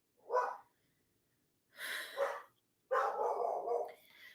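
A dog barks out a window indoors, three separate close barks with pauses between them, the last one longer and drawn out.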